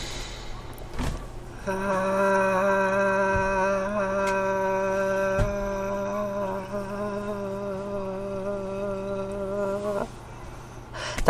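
A single voice holds one long sustained vocal exercise tone, steady and pure like a drawn-out version of a speaking voice. It lasts about eight seconds at moderate loudness in a quiet room.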